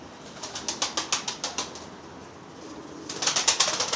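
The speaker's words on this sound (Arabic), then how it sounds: "هذا الحمام" Pigeons, Iraqi sky-blue Azraq birds, beat their wings in quick repeated bursts of flapping, clustered at the start and again at the end, with soft cooing murmuring underneath at moderate distance.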